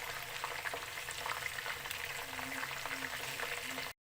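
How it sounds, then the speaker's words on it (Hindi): Chicken frying in oil in a pot gives a steady, dense sizzle with light crackles and pops, moderately close, with no talk, cutting off abruptly near the end. "देखिए चिकन को फ्राई होते हुए 10 मिनट हो चुके हैं।"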